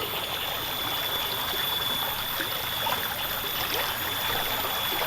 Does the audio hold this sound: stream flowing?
yes